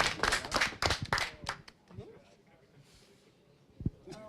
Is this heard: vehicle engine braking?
no